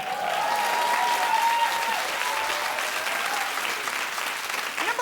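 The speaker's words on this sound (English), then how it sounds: "how are you all clapping over this?" A large audience claps steadily, a dense wash of applause that holds for several seconds without pause.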